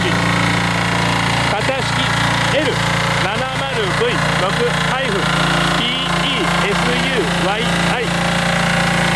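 A Yanmar diesel sub-engine on a Hino Dutro sprinkler truck built by Kyokuto Kaihatsu runs at a steady, loud drone throughout, while someone talks over it.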